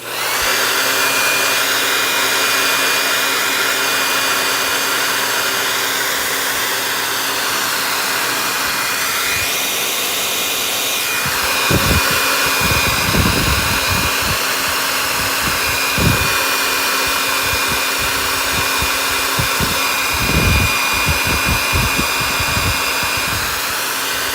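A hair dryer blows loudly and steadily on a wet DIY fabric napkin, a constant close whine and rush with a brief pitch shift midway and some low thumps and handling noises later, no talking.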